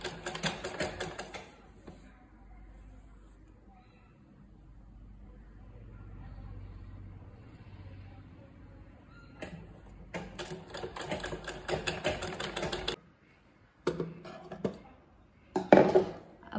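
A sewing machine runs in bursts as it stitches a cross piece onto a ruffle top, a rapid mechanical clatter at moderate volume separated by quieter pauses and low handling noise.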